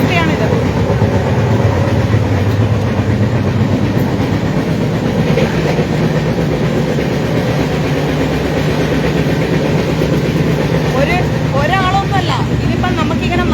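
A moving passenger train in India, its steady rumble and rail rattle filling the carriage continuously, with voices talking over the din throughout.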